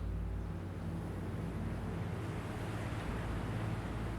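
Ocean surf rolls and washes in a continuous broad roar, mixed with some wind rumble, steady and fairly close, with no voices.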